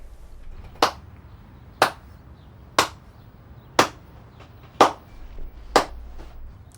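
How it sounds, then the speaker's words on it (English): A slow clap, six sharp single hand claps spaced about one second apart in a steady, deliberate rhythm, close and distinct over quiet background. "As well as getting a slow clap from Noffa"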